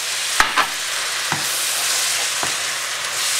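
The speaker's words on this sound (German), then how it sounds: "Und gebt ungefähr 100 ml Wasser in die Pfanne." Water poured into a hot pan of fried mushrooms and onions sizzles and hisses steadily, with a few sharp clicks and scrapes from stirring as the pan settles.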